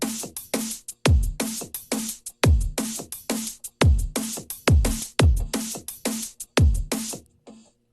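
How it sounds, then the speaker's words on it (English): A fast, driving drum and bass beat with crisp, punchy snare hits and deep kicks, looping steadily and loud with no voices. "to make the snare go different there, so it's like sound like this"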